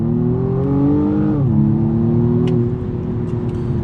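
A 2019 BMW M135i xDrive driving off, a steady engine drone that shifts down in pitch partway through, then settles and continues at an even level, fairly loud and close.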